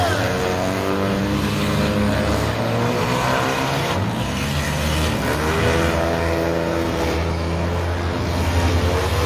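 Compact cars race a figure-8 heat at a fair, among them a Honda Accord, with engines roaring loud and close in a constant dense wall of revving, rising and falling pitch as they accelerate through the laps.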